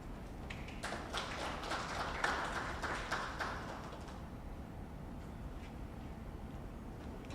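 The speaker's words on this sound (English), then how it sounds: "Can we please give our speaker another round of applause, please?" An audience applauding a speaker at a university peer network event, a burst of clapping that swells for a few seconds and then fades out, leaving quiet room tone.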